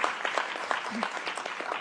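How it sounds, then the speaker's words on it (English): An audience claps for the band members at a special event, a steady wash of applause with some voices mixed in, filling the whole short stretch at moderate level. "You can take all the clapping"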